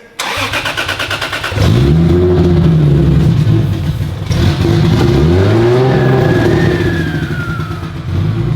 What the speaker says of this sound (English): You can hear that turbo spool, baby.